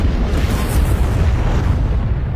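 A loud, continuous bomb explosion rumble from a blast in a research laboratory roars without pause, deep and heavy, with no voices.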